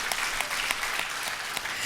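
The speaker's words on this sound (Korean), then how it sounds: "영광의 박수를 올려드립시다" A church congregation applauds during a Sunday service, producing a continuous patter of clapping at a moderate distance with a few sharper claps standing out.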